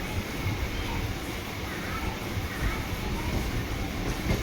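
Chennai suburban EMU local train at midnight, on the run from Chennai Beach toward Tambaram: a steady, loud rumble of wheels and carriage noise fills the whole stretch, with a continuous hiss and no clear pauses.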